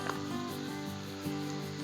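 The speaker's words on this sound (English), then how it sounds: "Oh, listen to that sizzle." Chicken sizzles steadily on a hot Blackstone griddle, a loud continuous crackling hiss with faint scraping.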